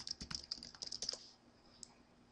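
Quick, close keystrokes on a computer keyboard in a short burst of typing, then a pause with one last faint tap.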